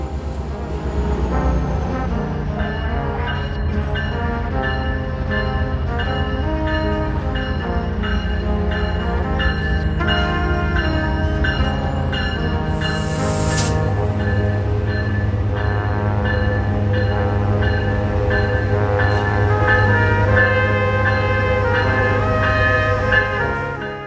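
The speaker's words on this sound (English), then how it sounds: "And the consist of Southwest Chief Train 4 backing up to load its passengers." Amtrak's Southwest Chief Train 4 backs up slowly at a station, with a steady rumbling diesel drone, sustained tonal hum and a bell, heard fairly close and continuously throughout.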